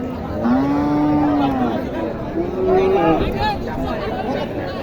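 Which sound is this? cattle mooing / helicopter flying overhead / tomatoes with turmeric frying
cattle mooing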